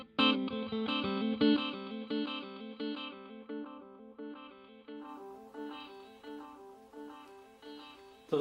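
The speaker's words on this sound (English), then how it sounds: "I'm just trying to let you hear the difference in the tone for the repeats of the echo" A Donner delay and reverb pedal with tap tempo sends a guitar phrase into echo repeats, the notes trailing and restating in rhythmic delayed copies that fade and return, played alone with no talking.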